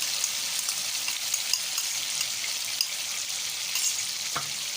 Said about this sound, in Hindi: ऑयल गर्म हो गया है, अब हम इसमें टिंडे शामिल करेंगे।